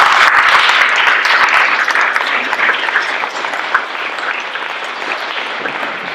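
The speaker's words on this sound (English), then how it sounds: "So would you just join me real quick in giving a round of applause for our employees?" A room of attendees applauding at a city council meeting, steady dense clapping that starts strong and tapers slightly toward the end.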